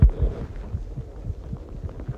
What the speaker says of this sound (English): Listen closely. You can hear her heartbeat.